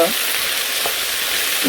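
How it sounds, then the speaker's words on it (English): Onions stir-frying in a pan give a steady, close sizzle and crackle throughout, with faint stirring sounds and no talking. "I'm just going to keep stir frying the onions until it comes to this golden tender"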